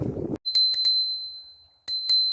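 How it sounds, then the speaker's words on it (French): A bicycle bell rings in quick clusters: three sharp, bright dings, a pause, then two more, close and clear after a brief burst of low noise at the start, used to call a dog back while cycling. "reviens à la sonnette comme une grande fille"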